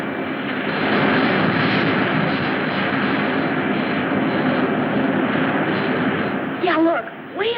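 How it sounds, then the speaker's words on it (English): Sci-fi spaceship from a 1956 space-ranger adventure flying overhead, a steady loud engine roar filling the whole clip without letup, with a brief warbling electronic sweep near the end. "That doesn't look like the ship Rocky took off in."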